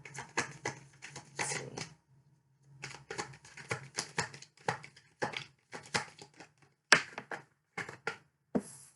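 A deck of tarot cards is shuffled by hand in quick, rhythmic riffling bursts, soft and close with short pauses between rounds.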